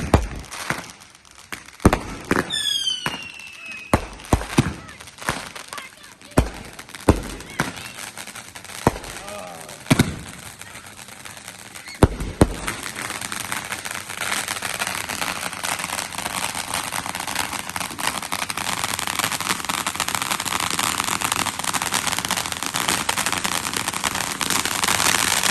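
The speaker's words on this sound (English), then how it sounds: "Real firecracker!" Firecrackers and fireworks go off at a London carnival block birthday party: a volley of sharp, loud cracks and bangs, some rapid and crackling, then a sustained dense crackling barrage with crowd noise behind it.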